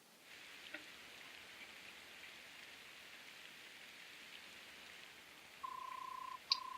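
Calm, steady rain in the video game Fire Emblem: Path of Radiance, a soft continuous hiss that holds evenly throughout, with a brief electronic tone near the end.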